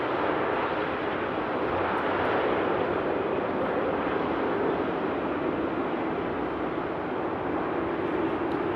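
A Boeing 787 Dreamliner lands in the rain at Amsterdam Schiphol airport, its steady broadband engine roar holding at an even level from start to finish, with no voices.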